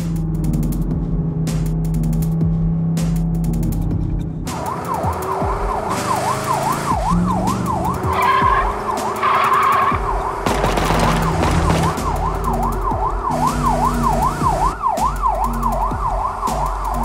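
Police sirens wailing in a driving video game, a rising and falling electronic siren cycling steadily over engine rumble, crashes and bursts of clatter.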